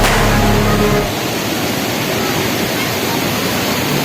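Sprite Falls in Majayjay, Laguna roars with a constant broadband rush of falling water, close and loud throughout, heavier for the first second.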